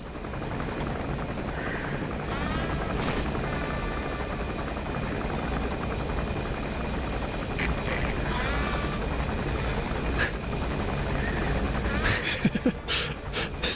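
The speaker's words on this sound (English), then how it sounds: "that chopper's back already?" Helicopter in Metal Gear Solid V, a steady whooshing rotor drone holding throughout under a hissy game soundscape, with a few clicks and bumps near the end.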